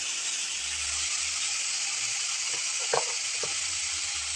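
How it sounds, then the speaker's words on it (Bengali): Bottle gourd peel frying with poppy seeds and salt gives a steady sizzle of hot oil, with a few brief scraping or stirring knocks near the end and no voices. "লাউয়ের খোসাটা কেটে রেখেছিলাম সেটা আমি দিয়ে দেবো"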